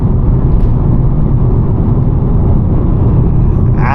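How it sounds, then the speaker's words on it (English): Steady broadband road and tire roar from inside a VW Golf 7 R-Line 1.4 TSI DSG driving at night, a continuous low rumble that stays even throughout with no talking. "I'm sure all you're hearing is tire noise"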